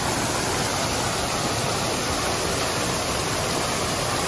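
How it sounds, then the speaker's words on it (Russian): Constant broadband rush of a park waterfall, steady and fairly close with no other sounds. "Это парк с водопадом."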